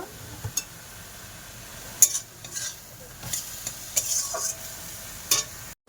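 Greens with salt and turmeric stirred in a pan as they cook down, a soft ongoing sizzle with irregular scraping strokes and light clinks of the utensil, close up and without voices.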